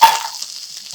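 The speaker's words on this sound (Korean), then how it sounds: "당근 넣고 1분 정도 볶아주고" Burdock and carrot stir-fried in a pan with olive and sesame oil and seaweed, giving a close, loud sizzle that starts with a burst and settles into steady hissing.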